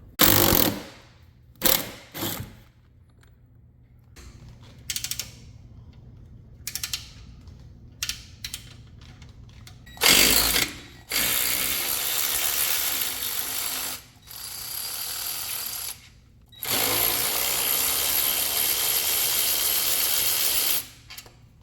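A tool works the 16 mm bottom shock mounting bolt on a Ford Edge rear suspension: short bursts of clicking and ratcheting alternate with quiet gaps, then three longer, loud, buzzing runs of a powered wrench.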